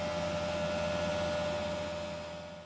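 A dishwasher, washing machine and an Actifry run together in a home kitchen, producing a faint, steady mechanical hum and whirr with a constant tonal drone.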